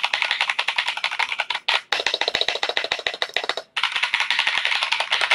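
Fast, close, crisp keystrokes on a new mechanical gaming keyboard with a TKL layout run in dense bursts, with two short pauses between flurries.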